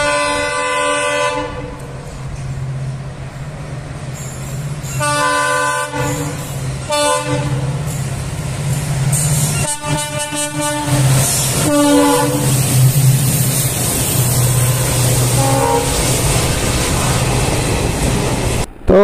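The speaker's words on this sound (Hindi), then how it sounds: "दोपहर को कैप्चर करने गया था हनुमानगढ़ फिरोजपुर एक्सप्रेस 14602" Hanumangarh–Ferozepur Express 14602 passing at close range, its horn blaring in repeated loud blasts over the heavy rumble and clatter of the moving train.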